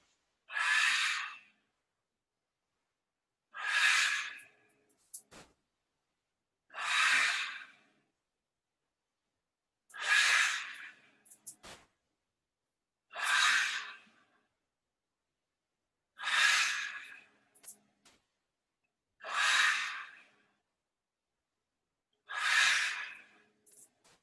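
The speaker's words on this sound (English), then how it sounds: "Turn as you exhale. The exhales are still the same. It's warrior's breath." Forceful warrior's breath exhalations during qigong practice come as eight strong, breathy huffs, each about a second long and evenly spaced several seconds apart, close and quiet between.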